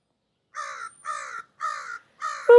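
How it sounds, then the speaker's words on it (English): Four harsh crow caws in an evenly spaced series, each call raspy and fairly loud, with a brief sharp noise at the very end. "those crows are noisy up there."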